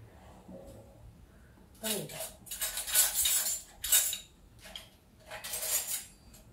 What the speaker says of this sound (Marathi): उकळलेलं पाणी आहे त्याच्यामुळे मी पळीला टाकते पाणी